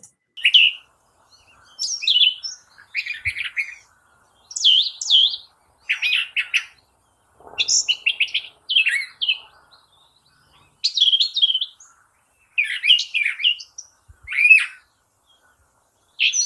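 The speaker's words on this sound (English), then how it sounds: "Scott, have you ever seen a brown thrasher that you know of before?" A brown thrasher sings alone in a varied series of bright, scratchy phrases, separated by short pauses, close and clear against silence.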